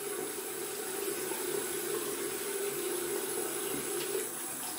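Cold tap water runs in a steady, even hiss while a safety razor shave is under way, fairly faint and uninterrupted for the whole stretch, with no voices.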